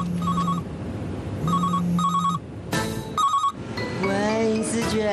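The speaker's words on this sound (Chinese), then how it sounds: "接电话。" A telephone rings in repeated bursts of electronic tones with short gaps, fairly close, with a voice briefly heard over the later rings.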